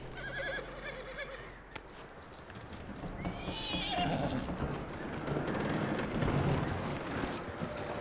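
Horse whinnying with clip-clopping hooves in the video game Red Dead Redemption 2, a neigh near the start followed by steady hoofbeats under ambient game sound.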